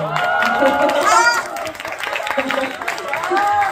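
Audience at a Mamamoo+ fan-sign event in Yoon-dang Art Hall breaks into clapping and cheering that swells briefly and then fades as voices chatter over the room.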